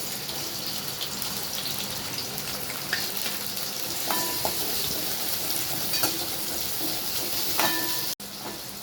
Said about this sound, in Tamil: இப்போ எண்ணெய் காஞ்சிச்சு, வெங்காயம் போட்டுக்கலாம்.